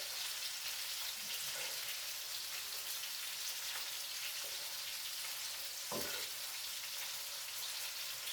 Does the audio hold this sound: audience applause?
no